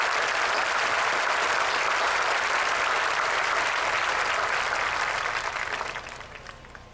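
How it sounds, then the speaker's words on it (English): At a high school graduation ceremony, a large audience claps in a sustained, even roar of applause that fades out near the end. "Please join me in applauding these individuals for the role that they play in day-to-day lives of all of our students."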